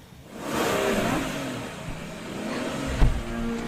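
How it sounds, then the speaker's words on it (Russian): Car engine revving up loudly and holding a rough roar, then easing off, with a sharp thump near the end, heard in a K-pop music video scene. "Машина."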